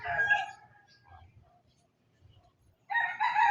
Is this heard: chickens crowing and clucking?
yes